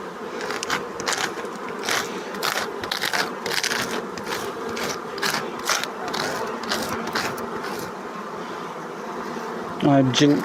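Honey bees buzz around an opened hive during a spring inspection, a continuous droning hum with scraping and handling noises over it, fairly close and steady throughout.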